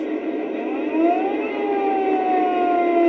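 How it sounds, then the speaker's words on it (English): A wailing siren from a model train sound system rises and holds a steady, sustained tone, loud and continuous with no voices. "Siren, that's pretty cool."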